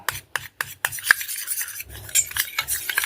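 White toothpaste mixed with ginger juice in a small container, heard as brisk, close scraping and rubbing strokes of a spoon in short bursts, with pauses between them.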